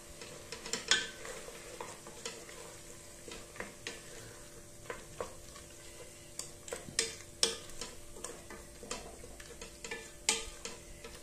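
Yogurt and biryani masala sautéing in a pan over low heat, a quiet, steady sizzle with irregular light ticks and scrapes of a stirring spoon.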